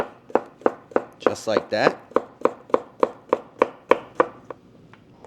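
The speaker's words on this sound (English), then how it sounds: "we're gonna chop up some zucchini" Knife chopping zucchini on a cutting board for a spicy tofu soup: a steady series of about fifteen sharp, close chops at an even rhythm, with a short burst of rustling partway through and a voice speaking briefly.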